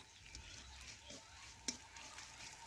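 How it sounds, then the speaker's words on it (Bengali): Soft sizzling with light scraping of a spoon stirring poppy seeds frying in a pan, quiet and steady, with one brief sharp clink. "পোস্তও এখন আমি নাড়াচাড়া করে একটু ভেজে নিচ্ছি"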